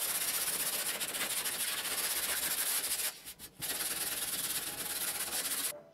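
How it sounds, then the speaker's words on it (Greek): Pine wood being hand-sanded with sandpaper after grinding, for a solid pine bathroom shelf: a steady, loud abrasive rubbing hiss that runs continuously, dips briefly midway, then resumes before stopping abruptly at the end. "μετά τον τροχό φυσικά ακολουθεί το γυαλόχαρτο για τις τελευταίες λεπτομέρειες"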